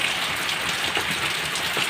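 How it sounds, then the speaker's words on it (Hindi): Heavy rain pours down steadily in a village during preparations for Karma Puja, a dense, continuous hiss of drops striking surfaces, loud and close with no voices. "देखिए दोस्तों क्या ही एकदम ज़ोर से बारिश होने लगा, देख सकते हैं।"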